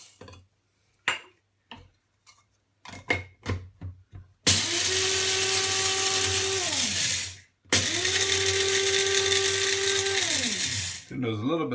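An electric grinder grinds whole peppercorns for biltong spice in two loud sustained bursts, each starting with a rising motor whine and ending as the motor winds down. Scattered clicks and handling knocks come before the first burst.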